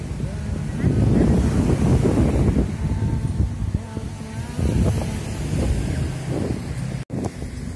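Sea waves and wind at Cemara beach at night on New Year's Eve, a steady rumbling wash of surf with wind buffeting the microphone, loud and continuous with a brief dropout near the end.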